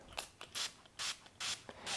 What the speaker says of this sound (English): The idea is to spray it onto the cloth,